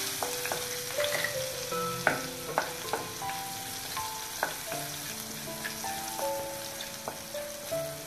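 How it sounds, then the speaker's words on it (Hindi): Green garlic sizzles in hot oil with asafoetida while cooking a green methi and raw banana curry, giving a steady frying crackle with occasional stirring clinks and pops throughout, up close and without talk. "लहसुन हमारा फ्राई हो चुका है, बहुत ज्यादा फ्राई नहीं करेंगे।"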